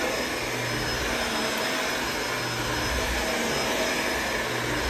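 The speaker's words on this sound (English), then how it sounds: "That's this vacuum" A new Performance Lift-Away vacuum cleaner runs close by with a steady loud whine and airy motor roar, constant throughout with no talk.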